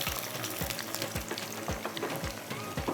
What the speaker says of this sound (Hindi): बस अब ज़रा सा ये फ्राई होता है